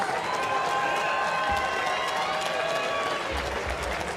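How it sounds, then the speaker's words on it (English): Crowd at a bare-knuckle fighting event at Hard Rock Live in Hollywood, Florida, clapping and cheering for both fighters, a continuous dense roar of applause with arena murmur and some tonal background sound mixed in. "let's have a nice round of applause for both fighters, please"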